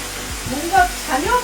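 A steady hair dryer whooshes at close range, with faint murmuring voices underneath.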